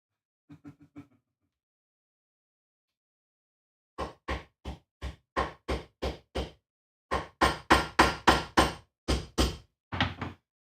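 Rivets being hammered into a leather armor cuirass: a few light taps, then two runs of sharp, evenly spaced blows, loud and close, ending in a quick double strike, no voices.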